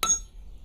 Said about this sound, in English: Stage 4, this is hammer out the rings to make a single flat overlapped link.